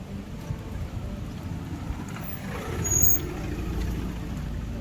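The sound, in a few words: vehicle passing close by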